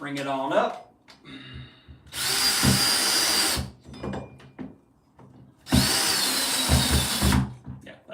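A power drill drives a screw through a bookshelf into a wall stud in two long, loud, grinding bursts, with people talking between them.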